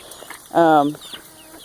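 A hen from a flock of leghorn and Rhode Island red mixes lets out a single clear, drawn-out cluck, close and moderately loud over faint background barnyard noise.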